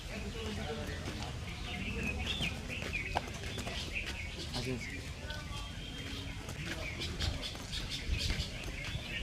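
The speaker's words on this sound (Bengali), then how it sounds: "এতক্ষণ আপনারা যে পাখির কিচিরমিচির" Birds chirp and tweet amid the greenery at a beach resort entrance, with pigeon-like coos mixed into a steady outdoor ambience while people talk throughout.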